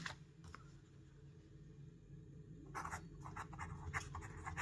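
Pen or pencil writing on paper while working a class 8 maths exercise, a quiet intermittent scratching that grows busier and more continuous in the second half, close and alone.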